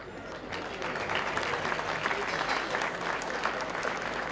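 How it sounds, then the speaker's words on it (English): A crowd at a Gaelic football minor final claps for the parents, a dense, steady round of applause from many hands, fairly close and sustained without speech. "a big round of applause to the parents."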